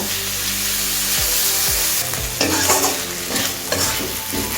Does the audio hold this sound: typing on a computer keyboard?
no